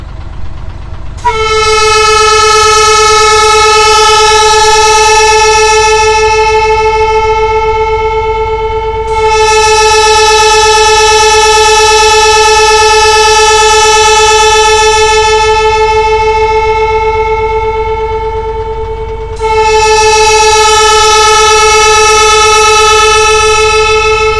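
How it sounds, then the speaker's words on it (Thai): A loud train horn blares in long sustained blasts, three of them with brief dips between, over the steady rumble of a passing train. "รถไฟอ่ะ ดังมา"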